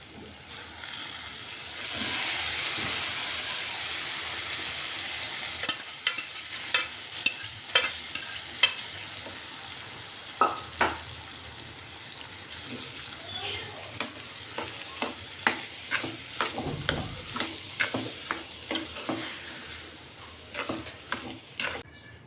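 Onion, tomato, chili powder, salt and turmeric fry in a pan for a sprouted moth bean curry, a low sizzle under a run of regular scraping stir strokes from a utensil, close and fairly quiet.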